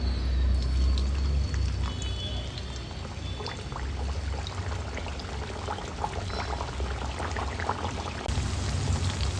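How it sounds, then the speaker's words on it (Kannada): Maddur vada frying in hot oil, a dense bubbling crackle with scattered pops running steadily throughout, close and without speech. "ಈ ಹದದಲ್ಲಿ ಎಣ್ಣೆಗೆ ಸೇರಿಸ್ಕೊಳ್ಳೋಣ. ಎಣ್ಣೆ ಬಿಸಿಯಾಗಿದೆ."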